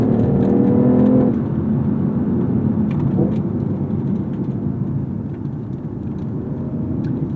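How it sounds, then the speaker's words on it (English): BMW i8 hybrid sports car with an inline three-cylinder engine, heard from inside while driving: a steady low engine drone and whir with a brief louder surge at the start, continuous and close, with no talking. "I love the various noises the car makes too."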